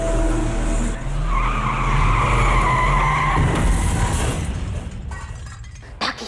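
A car with sabotaged, failed brakes skids loudly, a long tyre squeal and engine roar filling the scene before a sharp crash-like burst near the end.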